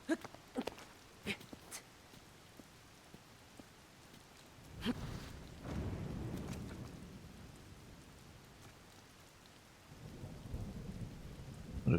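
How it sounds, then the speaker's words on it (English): A thunderstorm rolls through the video game Tears of the Kingdom, with sharp cracks early on, then long low rumbles of thunder over steady rain and no talk. "seeing the thunder being called down once again"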